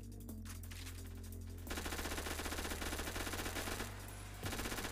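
Rapid automatic gunfire from a P90 mowing down zombies in a video game, two dense bursts of fast shots over a constant droning game soundtrack.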